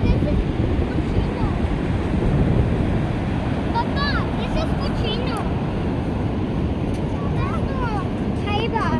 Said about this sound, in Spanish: Se ven relajantes las olas, oye el ruido.